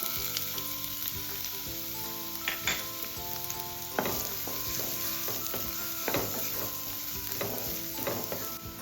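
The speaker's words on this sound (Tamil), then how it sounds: "மீடியம் சைஸில் 2 ஆனியன் கட் பண்ணி வச்சுருக்கேன். இதை சேர்த்துக்கிறேன்." Chopped medium onions sizzle and fry steadily in hot oil in a home kitchen pan, with occasional stirring clatter over a continuous close crackle and no talking.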